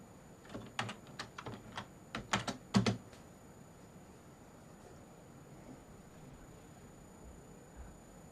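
Fast bursts of keystrokes on a computer keyboard, typed while writing a web novel, with clicks clustered in the first three seconds and then quiet room tone for the rest of the clip.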